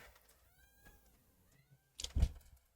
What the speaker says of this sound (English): That's it? You're not gonna meow anymore?